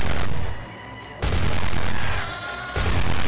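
Machine gun fire in the video game Dino Strike comes in loud, dense bursts, a sustained rattling barrage that briefly eases and then resumes twice, close and alone with no talking.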